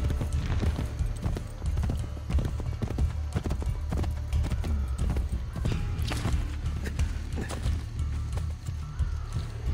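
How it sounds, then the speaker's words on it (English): A horse gallops in the Assassin's Creed Brotherhood video game, its rapid hoofbeats pounding loud and close in a fast, uneven rhythm, with a faint whinny. "Stupid horse."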